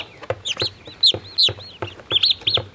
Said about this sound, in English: These are bronze-breasted turkeys.